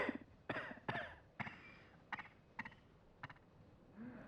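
A series of raspy coughs from a character in the video game Bloodborne, about seven bursts spread unevenly over a few seconds, fairly close and clear with no talking.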